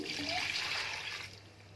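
Water pours steadily into a pressure cooker holding mutton, cloves and ginger for shami kebabs, a close, continuous splashing trickle that eases off toward the end.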